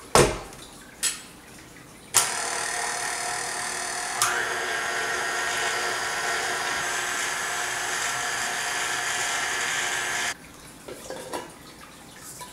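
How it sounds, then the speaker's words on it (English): A continuous mechanical whir, like an electric mixer, runs steadily for about eight seconds while macaron paste is mixed in a bowl, framed by brief clatters of handling before and after. "we're gonna mix until the paste is formed"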